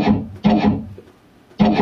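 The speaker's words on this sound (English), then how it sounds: "it sounds like this piston thunk that's tied to each of the pistons" Sampled organ piston thunks from a virtual theatre pipe organ setup, played at a raised noise level: three loud, broad thumps spaced about a second apart, each with a short resonant body, alone with no talk.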